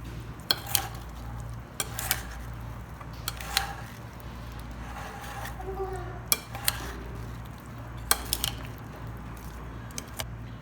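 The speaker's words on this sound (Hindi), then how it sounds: "फ्रूट चाट हमने अच्छे से मिक्स कर ली है" Fruit chaat of mango and seasonal fruit with salt and chaat masala being stirred and tossed in a bowl, with soft scrapes and repeated light clinks of a spoon against the dish over a steady low hum.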